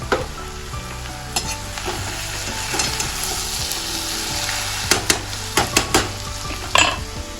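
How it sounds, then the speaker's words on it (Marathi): Onions fry in hot oil for biryani, a steady close sizzle throughout with scattered clinks and scrapes of a utensil against the pan, the stirring clatter growing busier toward the end. "कांदा ठेवला लाल करायला"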